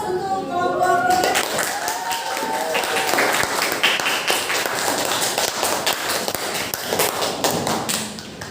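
Classroom of eighth-grade students applauding for a presenting group, dense clapping and tapping filling the room steadily for several seconds after a brief voice at the start.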